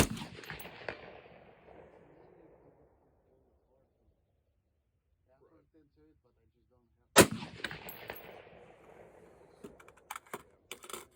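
Two loud gunshots from a Colt MT6700 HBAR rifle, each a sharp outdoor crack followed by a fading echo, separated by several seconds of near silence, with clicks and handling noise after the second.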